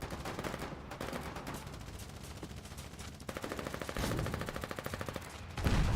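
Rapid machine-gun fire in the online war game Foxhole, with dense bursts of shots, some distant and some closer, continuing throughout amid battlefield noise.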